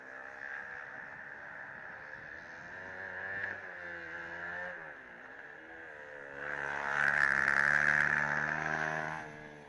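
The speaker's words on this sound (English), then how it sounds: "Car 72 making some funny sounds as it goes through the Broken Dream section and through the horseshoe." A Formula Student endurance race car with a small 373 KTM single-cylinder engine makes odd whining, wavering engine notes through a twisty section, its pitch sliding up and down before swelling louder as it passes.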